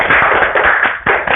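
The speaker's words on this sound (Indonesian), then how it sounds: "Tepuk tangan untuk kita semua" Students in a classroom clap together in a burst of applause, dense and close, with a few sharper claps and brief dips in the clapping.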